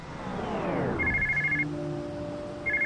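A telephone rings in an office setting, with a bright electronic double-tone ring that repeats after a pause, following a descending whoosh and steady hum.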